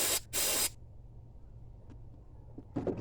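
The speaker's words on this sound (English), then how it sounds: "some cleaner. We're gonna spray." Carburetor cleaner hisses from an aerosol can onto the carburetor of a 1988 GMC 350 5.7, two loud close bursts followed by quiet and a softer spray at the end.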